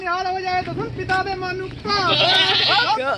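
Goats bleat repeatedly and loudly close by at a village goat market, their wavering cries overlapping one another above a busy background murmur.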